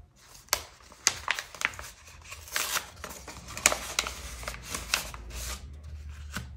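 Cash banknotes handled and sorted on a table, a close run of papery flicks, crinkles and soft snaps in an uneven rhythm, with no talk over it.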